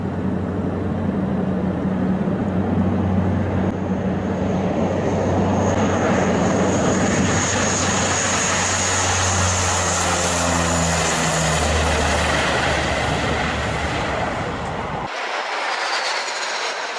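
A World War-era C-47 propeller airplane at Bodaibo Airport, in strong crosswind landing conditions: a loud, steady engine drone with a rough rumbling texture that holds evenly for about fifteen seconds before cutting off abruptly.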